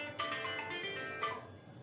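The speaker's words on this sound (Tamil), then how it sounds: "ஏய், கோபால் கால் பண்றான" A phone rings with an incoming call at home, heard as two short bright electronic tone bursts, faint and close, with no voices.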